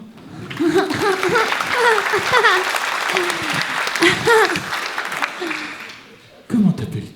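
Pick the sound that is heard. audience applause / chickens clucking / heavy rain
audience applause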